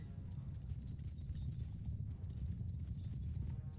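Horses gallop in Mount and Blade 2 Bannerlord, a steady, continuous clip-clop of many hooves pounding in a dense low rumble throughout a battle, loud and unbroken with no talk.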